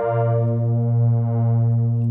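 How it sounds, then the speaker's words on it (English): A steady, sustained synth chord with a rich, slowly shimmering tone, colored by a Vongon Solarfaze stereo multiband saturation chorus pedal. It holds at an even level for about two seconds. "It's a stereo multiband saturation chorus."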